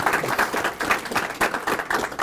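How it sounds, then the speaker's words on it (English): An audience applauds at a corporate CEO conversation event, a steady wash of clapping that swells and dips in short waves and carries on throughout with no voices over it. "I ask you to give them a round of applause"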